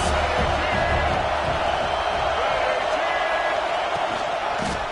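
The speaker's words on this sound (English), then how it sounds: "Man, this crowd really affecting the football game." Dense, steady roar of a home crowd packed into a stadium at an Alabama college football game, loud and continuous, with no single voice standing out.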